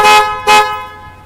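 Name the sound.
Sprinter van horns honking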